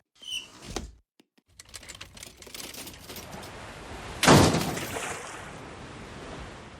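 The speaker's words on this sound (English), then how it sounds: "Can you open the sliding door?" A sliding door rolls open in a Family Guy cartoon scene, a sudden loud whooshing rush partway through that trails off into steady background noise after brief earlier thumps.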